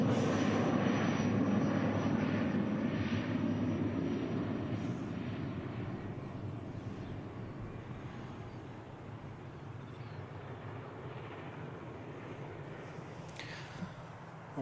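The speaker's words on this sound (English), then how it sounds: "See the departure of Emirates." An Emirates airliner departs Christchurch Airport in the evening, its jet engines a broad, distant roar that starts strongest and slowly fades as it climbs away, with no voices.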